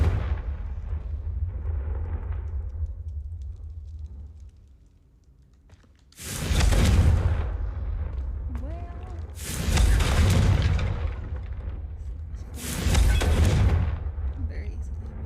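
Confringo fire spell explosions in Hogwarts Legacy, three loud broadband blasts roughly three seconds apart, each with a sharp onset and rumbling fiery tail over a low game ambience, a brief quiet dip before the first.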